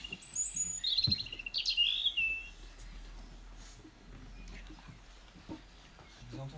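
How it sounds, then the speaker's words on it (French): A European robin sings in short high chirping phrases near the start, over a steady low rumble and someone speaking French throughout. "Vous entendez son chant? Et il a cette gorge rouge, avec un tout petit bec pointu."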